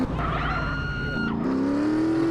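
A motorbike in GTA San Andreas skids and its tires squeal over a steady engine drone, the whine sliding in pitch as the bike slips, loud and close.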